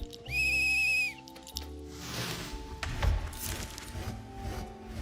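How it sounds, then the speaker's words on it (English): A whistle is blown in the video game BloomTown: one shrill, sustained tone of about a second, followed by a rumbling, shifting ambient wash as the scene changes. "Should I blow the whistle?"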